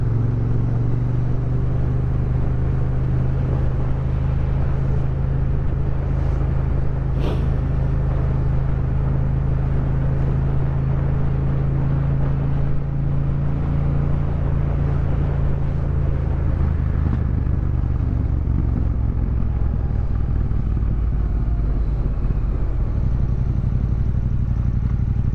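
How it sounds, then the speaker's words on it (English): A 2023 Yamaha MT-07 motorcycle engine drones steadily and loudly throughout, a deep continuous exhaust rumble with wind noise while riding. "The exhaust note on this bike is actually quite civilised."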